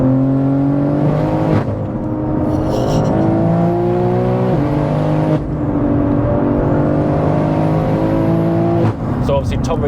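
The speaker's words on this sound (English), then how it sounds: "Oh, those downshifts are amazing." Single-turbo BMW G80 M3 with over 1000 bhp and all-wheel drive, recorded from inside the car: loud engine revs climb and then abruptly jump between gears several times, with crackling bursts at the gear changes.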